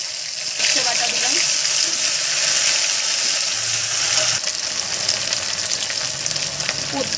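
Mustard paste hitting hot oil with dried chillies, bay leaf and nigella in a pan for steamed prawns, a loud close sizzle that swells and then settles, with faint clinks of utensils.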